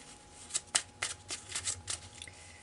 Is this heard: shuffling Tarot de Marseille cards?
yes